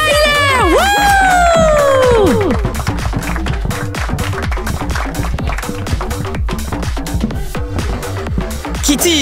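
A crowd cheers and claps in a Roblox dress-up game show, bright rising whoops and squeals at the start giving way to a dense, continuous patter of applause over music.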